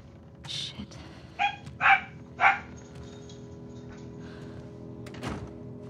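A pet dog in the room lets out three sharp, loud barks in a quick burst, followed by a yip and quieter shuffling, with faint game sounds underneath.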